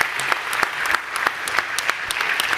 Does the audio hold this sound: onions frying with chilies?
no